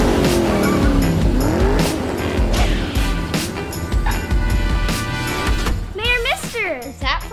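In a cartoon, a new fire engine arrives with loud racing-car engine roar, tire squeals and skids that fill the scene, followed by a rising whoosh and bright swooping sound effects at the end.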